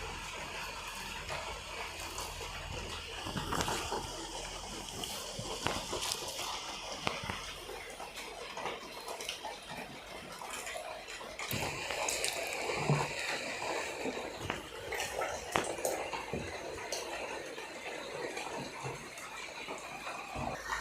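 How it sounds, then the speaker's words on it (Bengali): Wood apple (bel) pulp squished and stirred by hand in a bowl of water, giving continuous soft sloshing, trickling and wet squelching at a steady moderate level, with no voices. "এই কাজটি হাতে করাই সবচেয়ে ভালো, তাতে বেল সুন্দরভাবে জলের সঙ্গে মিশে যাবে"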